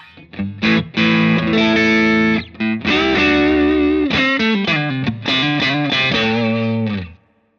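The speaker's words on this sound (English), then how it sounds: "I'm going to use the Page here, which is a tube overdrive." An electric guitar runs through a Page tube overdrive pedal with its tone control turned fully down, giving dark, thick, distorted riffs and sustained chords that ring loudly up close, then cut off at the end.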